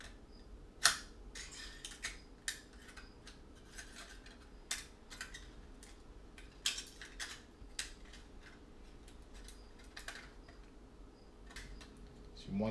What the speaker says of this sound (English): So we're going to cut it all the way through.